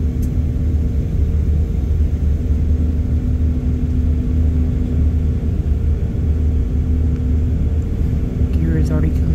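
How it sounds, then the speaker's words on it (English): An airliner on final approach to Cleveland-Hopkins Airport with the landing gear already down, heard from the cabin as a loud, steady low rumble and engine drone that continues without a break. "Gear has already come down. We're on final approach."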